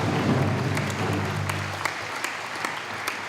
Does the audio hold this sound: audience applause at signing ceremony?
yes